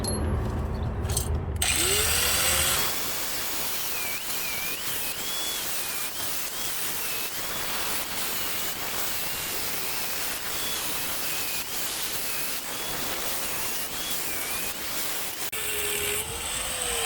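A power tool whines steadily while trimming a truck's plastic panel to clear larger tires, a long continuous grinding buzz after a brief louder burst at the start, close and alone without talk.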